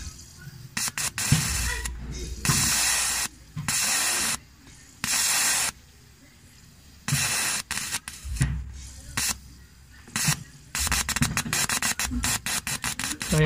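A fuel injector from a Suzuki Every Wagon turbo (DA64W) being cleaned fires in repeated sharp hissing spray bursts, each lasting about a second, separated by short pauses, close and fairly loud, with brief quiet speech between.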